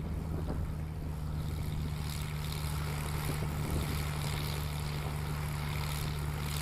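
A STOL airplane taking off at a short-takeoff competition in Moses Lake, a steady, loud propeller engine drone with a strong low hum that holds constant throughout, no speech heard.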